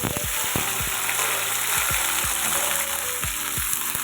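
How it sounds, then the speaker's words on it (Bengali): Papaya pieces fry in oil in a wok with a constant close sizzle, broken by repeated sharp scrapes and knocks of stirring. "তেল দিয়ে এবার এর ভেতরে পেঁপেগুলোকে ছেড়ে দিলাম। পেঁপেগুলো বেশ একটু সুন্দর করে ভেজে নেব।"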